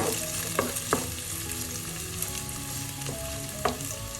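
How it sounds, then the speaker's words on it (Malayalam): Garlic sautéing in a pan for garlic chicken, a soft continuous sizzle with a few light spoon taps and stirs, close and unaccompanied by speech. "ഇതിന് വെളുത്തുള്ളിയാണ് കൂടുതൽ വേണ്ടത്. അത് ചെറുതായി ഒന്ന് വഴറ്റാം"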